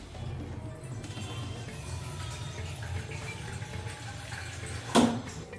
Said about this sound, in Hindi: इसमें अब मैं डालूंगा गर्म पानी।